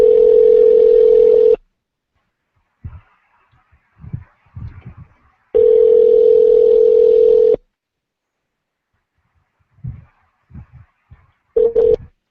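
A phone call goes unanswered, with long, steady ringback tones repeating at intervals and faint murmurs and small noises in the gaps between them.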